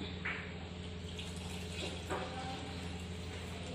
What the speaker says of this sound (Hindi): अरे पानी डालो इसमें